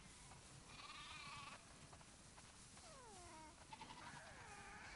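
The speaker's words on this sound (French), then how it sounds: "Oh, t'as vu un peu tous ces moutons?" A few sheep bleat in a farm setting within The Last of Us Part II, short wavering cries rising and falling, fairly faint over a soft steady ambient background.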